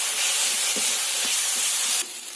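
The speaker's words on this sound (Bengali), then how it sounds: "এক চামচ কাশ্মীরি লঙ্কা গুঁড়ো এবার এটাকে নেড়ে নিতে হবে" Turmeric and Kashmiri chilli powder fry in a pan while being stirred, giving a steady bright sizzling hiss with a few soft, faint scraping knocks underneath.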